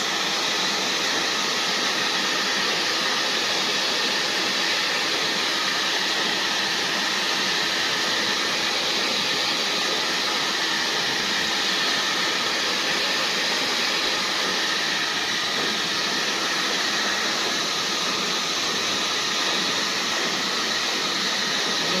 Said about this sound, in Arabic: انا بنشف اهو بالاستشوار وايدي في الشعر بالمسك